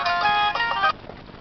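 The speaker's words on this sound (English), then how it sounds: "that's my phone." A mobile phone ringing in a car, a bright electronic ringtone melody sounding loud and close for about a second, then stopping.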